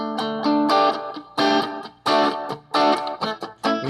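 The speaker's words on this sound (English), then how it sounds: "the springs in the back here just vibrating, and the pickups are picking up that tone" A distorted electric guitar plays chopped, repeated chords, each burst ringing with a faint metallic pinging overtone underneath from the guitar's back springs vibrating into the pickups.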